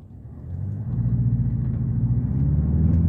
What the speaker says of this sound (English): now I got the car in sport mode